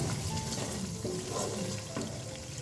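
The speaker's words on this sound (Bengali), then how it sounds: "মশলাগুলো দিয়ে দিয়েছি, মশলাগুলোকে কষাচ্ছি ভালো করে।" Spice masala sizzling and sautéing in oil for mutton rezala, a steady, close crackle and hiss with faint stirring scrapes, continuous and fairly quiet, with no talking.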